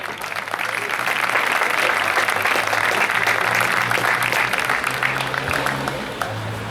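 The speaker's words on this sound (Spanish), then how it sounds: "Aplauso fuerte." Spectators at an exhibition padel match in Neuquén applauding loudly after a point, a sustained burst of crowd clapping with a low hum and murmur of voices beneath, fading slightly at the end.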